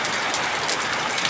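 Heavy rain pours down steadily as a dense, even hiss of drops on surfaces, continuous and fairly close for a brief moment with no voices.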